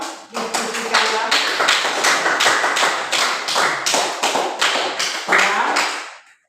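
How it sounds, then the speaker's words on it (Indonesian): A classroom of students claps together in quick, rhythmic bursts, each sharp pattern repeating close by with voices mixed in. "Mari kita tepuk tangan dengan hasilnya"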